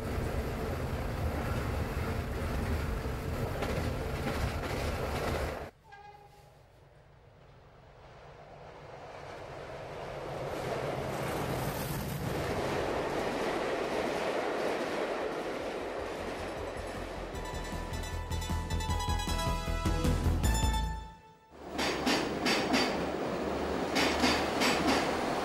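A passenger train running on rails, heard from the driver's cab on a Chiltern line, with a steady rolling roar and rhythmic wheel clatter, briefly dropping away twice as if passing through structures, loud and continuous.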